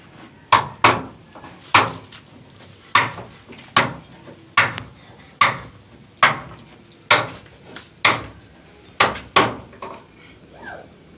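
A wood carving chisel is struck repeatedly into a door while it is being fitted, giving about fifteen loud, sharp knocks at an uneven pace, some in quick pairs, close to the microphone with no talk.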